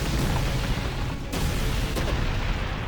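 A door in Final Fantasy X is blown open by an explosion, heard as a continuous loud booming rumble with two sharper bursts cutting through the dense, low-heavy blast noise.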